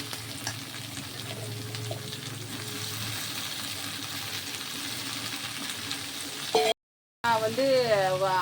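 White pumpkin pieces stirred into sautéed onions frying in a pan give a steady close sizzle with stirring scrapes, and a voice talks briefly near the end.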